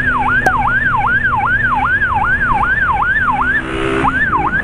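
A loud police-siren-style motorcycle horn on a Mad Max motorcycle sweeps up and down in a fast, regular rhythm, briefly pausing before resuming, over a low engine rumble.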